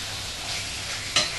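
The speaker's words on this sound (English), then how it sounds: "the chicken's now cooking quite nicely" Steady close-up sizzling of chopped chicken frying in a pan, with a brief sharp clink of a utensil near the end.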